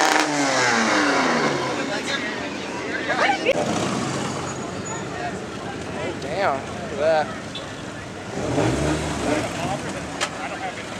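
A twin-turbo Honda NSX revs and accelerates at a car meet in an abandoned mall parking lot. Its engine note rises and falls in several swelling bursts, some near and some farther off, while people nearby chat and exclaim.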